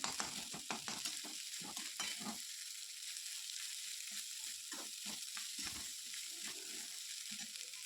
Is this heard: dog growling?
no